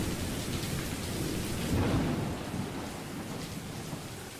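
Thunderstorm with steady rain in a visual novel game, a broad low thunder rumble swelling midway over a constant hiss of rainfall, loud and continuous with no voices.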